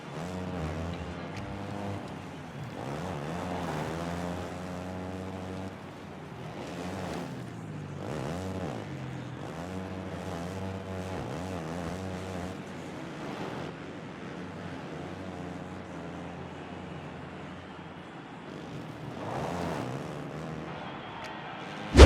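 Husqvarna dirt bike engine in the Monster Energy Supercross video game, a revving two-stroke whine that rises and falls steadily through gear changes and throttle blips, continuous and fairly loud with wind-like rushing noise underneath.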